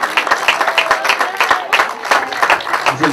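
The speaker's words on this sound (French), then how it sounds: "Avec les applaudissements du public pour celle qui l'emporte de très très belle manière" A crowd at a running race finish gives steady, rhythmic applause for the winning woman, with dense clapping close by and a voice briefly heard underneath.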